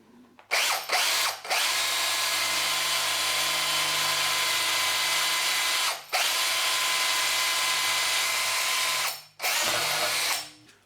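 A cordless drill with a large hole saw cuts through metal, its motor whining loud and steady in long runs that stop briefly several times before restarting.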